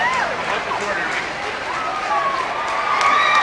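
Crowd noise fills the Cheyenne Saloon during a Mickey Gilley show at Church Street Station, a steady, close babble of many voices with scattered shouts and whoops throughout, and no clear words rising above it.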